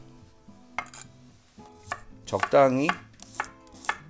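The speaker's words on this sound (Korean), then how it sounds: "꼭다리만 따시고요, 편 썰겠습니다" A knife slices peeled garlic cloves on a cutting board with a series of sharp, uneven chopping taps. A brief, louder scrape comes in the middle, and a single short spoken word is heard.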